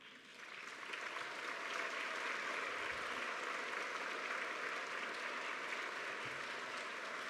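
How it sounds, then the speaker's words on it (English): An audience at a bone marrow transplant survivors' celebration applauds the nurses, a dense, sustained wash of clapping that swells in and holds steady, heard from some distance. "Now, you're all clapping for them, but that wasn't what I wanted you to do."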